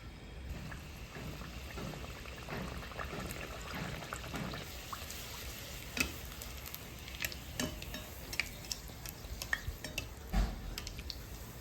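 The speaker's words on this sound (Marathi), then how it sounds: "आपण आता पुरी तळून घेऊयात." Puris fry in hot oil with a soft, steady sizzle, broken by scattered sharp clicks and light utensil knocks, fairly faint with no talking.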